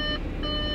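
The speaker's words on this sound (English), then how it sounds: "I know it's beeping like crazy" Beeping from an Audi S5 coupe with a supercharged V6, door open: a steady electronic warning tone that holds continuously with a short dip, over low background rumble.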